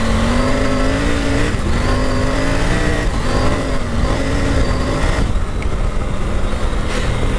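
A Triumph Tiger 900 Rally Pro motorcycle engine runs loud and close throughout, its pitch rising and dipping through repeated revs and gear changes while riding on and off road.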